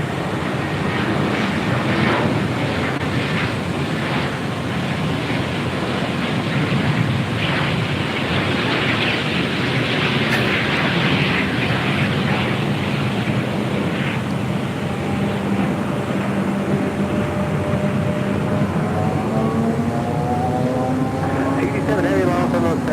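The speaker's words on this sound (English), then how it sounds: "We have the Emirates A380 heading back to Dubai," A broad steady jet roar from an Emirates Airbus A380 pushing back from the gate at Los Angeles airport, continuous and fairly loud with a slowly rising whine near the end, airport ambience around it.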